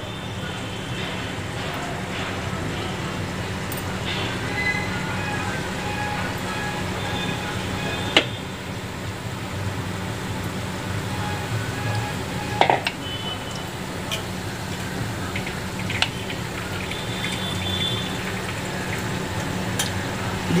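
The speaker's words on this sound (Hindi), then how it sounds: "फिर इसमें थोड़ा सा जीरा डालेंगे, जब ये लाल हो जाएगा" Cumin seeds fry in hot oil in a kadhai while lentil dal is being made, giving a steady close-up sizzle with occasional sharp clinks of a spoon against the pan.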